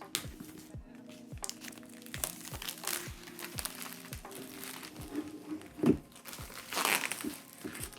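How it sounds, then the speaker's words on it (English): Close, crinkly rustling and crumpling of plastic wrap being pulled off the box of an M2 MacBook Air, with irregular taps and a few sharper crackles. "get rid of the plastic"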